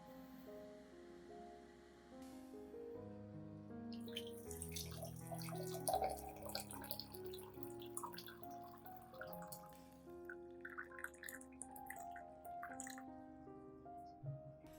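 Hot water poured into a container while preparing a turmeric solution for plant care, a soft trickling splash and dripping that gurgles and changes pitch as the vessel fills, quiet and close, with faint background music throughout.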